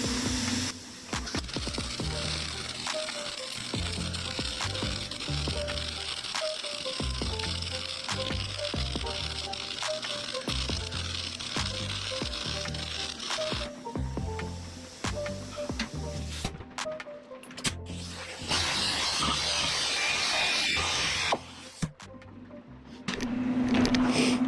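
Welding on the tailgate section of a 1949 Willys Jeep pickup, a steady crackling hiss that runs almost unbroken and loud for most of the stretch, with brief pauses and a short quieter gap near the end.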